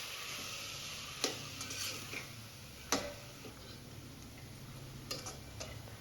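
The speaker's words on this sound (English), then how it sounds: "Stir 1 or 2 minutes" Potato, green peas and green chili for pulao stirred in a bronze vessel, with a steady hiss and a few sharp scraping clicks of the spoon against the metal.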